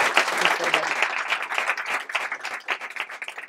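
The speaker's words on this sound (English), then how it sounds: "Round of applause for Gina McCarthy" A studio audience applauds at a public health leadership event, a close burst of dense hand clapping that tapers off near the end.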